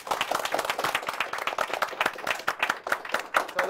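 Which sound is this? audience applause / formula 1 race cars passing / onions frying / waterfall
audience applause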